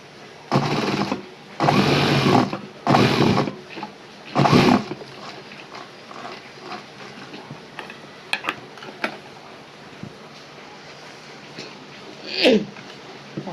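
A sewing machine stitching a pocket on ladies' pants, several loud bursts of rapid mechanical running in the first seconds, then quieter clicks and handling noises at close range.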